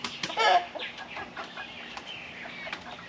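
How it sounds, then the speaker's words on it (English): An eight-week-old young rooster, a chick being weighed, gives a few short clucks, loudest near the start and then fainter soft calls. "This here's the little rooster."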